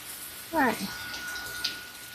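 Water from a small can or cup splashes briefly onto freshly potted plant cuttings, a short soft pour followed by quiet trickling and a faint drip in a garden setting.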